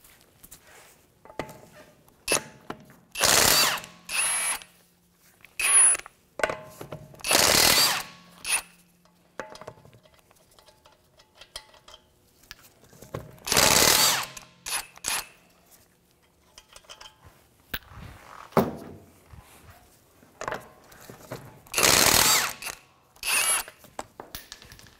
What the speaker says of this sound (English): We're going to go ahead and take these lug nuts off, the 19 millimeter socket.